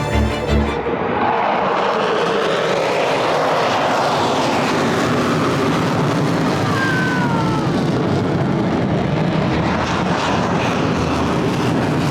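A military jet roars overhead during Singapore's 60th National Day air display in a broad, sweeping rush of engine noise, loud and continuous, with its tone shifting as it passes.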